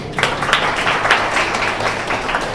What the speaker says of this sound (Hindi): तालियां बजाओ इसके लिए।